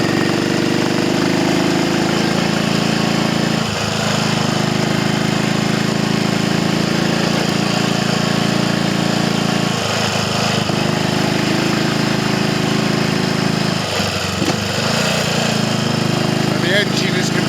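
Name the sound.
vintage motorcycle engine accelerating in second gear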